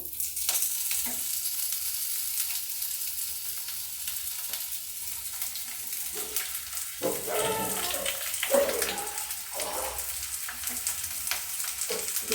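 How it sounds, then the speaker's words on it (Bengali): Drained wet ingredients, part of a stuffed cabbage dish, fry in a hot pan with a continuous hiss and bursts of spattering from the water, close and steady. "গরম হয়ে গেছে, আমি প্যানে দিয়ে এগুলো ভেজে নেব।"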